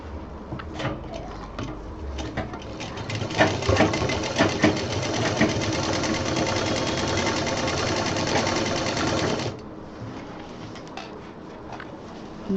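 Sewing machine stitching a handmade baby diaper bag: a few short starts, then a fast, steady mechanical whir with a rapid rhythmic chatter for about six seconds before it stops, leaving light handling noise.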